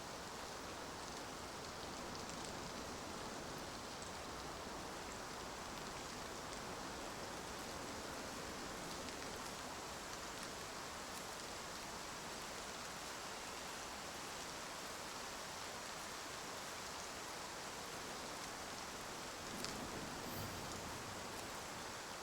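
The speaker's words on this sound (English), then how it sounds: "You can almost hear the rain lightning up." Rain in the hunting video game Way of the Hunter, a dense, steady hiss of falling drops that fills the whole stretch evenly, with one faint thump near the end.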